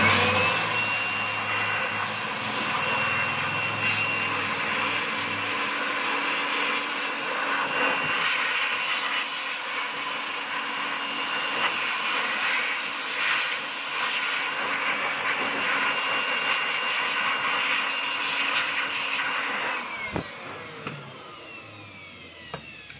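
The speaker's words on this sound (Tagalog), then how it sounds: "Bubugahan natin ng blower." A Stanley STEL670 heat gun blows air in a steady, loud whooshing drone with a whining tone, running continuously for about twenty seconds before cutting off, with a few clicks near the end.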